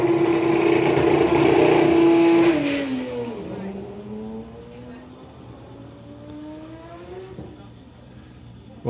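A Porsche drag racing car at a doorslammer event roars loudly at a high steady pitch, then drops and climbs again through rising gear-like sweeps as it pulls away into the distance, with commentary over it.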